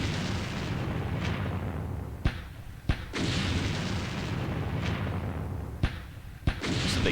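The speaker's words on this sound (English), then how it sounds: "Some big heavy mortars, I think." Heavy mortar strikes in the wargame Campaign Series Rising Sun, a dense rumbling barrage of booms with several sharp loud cracks standing out at intervals.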